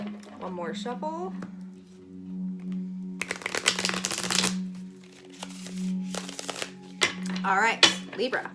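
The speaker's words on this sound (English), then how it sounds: "One more shuffle." A couple of crisp tarot card shuffles, close and brisk, with a person talking before and after them over a faint steady hum.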